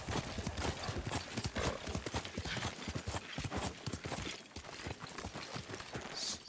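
Horse hooves clip-clopping steadily in Ghost of Tsushima, a dense, close, continuous rhythm of hoofbeats throughout, with faint voices underneath.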